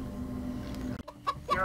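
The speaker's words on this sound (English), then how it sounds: "Hi, chicken. Bye, chicken." A short pair of clucks from a chicken in the Minecraft Story Mode video game follows a steady low background hum, each one brief and fairly close.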